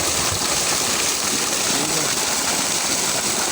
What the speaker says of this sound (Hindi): ये ट्यूबवेल है और ये माशाल्लाह इसका पानी है